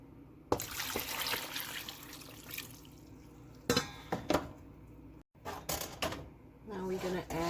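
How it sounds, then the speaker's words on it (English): Water pours and splashes into a cooking pot for a potato stew, with clattering bursts of metal and a running tap, heard under a person's voice. "I'm just gonna pour enough water."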